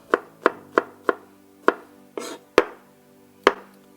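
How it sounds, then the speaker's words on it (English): A knife strikes a cutting board while chopping garlic for chicken gnocchi soup, eight crisp separate chops at an uneven pace, close and clear with no talk. "let's go ahead and cut up the garlic"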